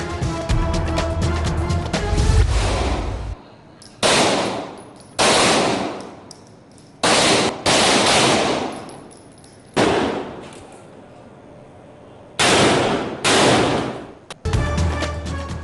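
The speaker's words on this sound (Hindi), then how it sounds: "पुलिस लाइंस कला गुजर सिंह में फायर प्रैक्टिस का सिलसिला जारी।" Police fire practice at Police Lines Qila Gujjar Singh brings loud, rapid bursts of gunfire, several sustained volleys separated by short quiet gaps.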